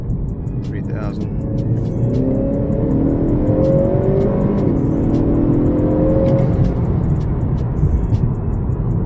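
A 2019-era Honda Accord 2.0T with a JB4 tune on E30 fuel accelerates through a third gear pull from around 3,000 RPM, the engine droning steadily and building under road and cabin noise, with talk from the driver.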